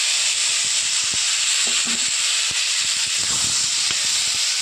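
A loud, steady hiss of taro, lentils and tomato frying in a pan, with scattered soft clicks and stirring knocks underneath.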